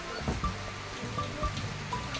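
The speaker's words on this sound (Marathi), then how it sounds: "खूप जोरात पाऊस आहे" Heavy rain pattering and drumming on a surface, a steady wash with a few louder drops, no voices.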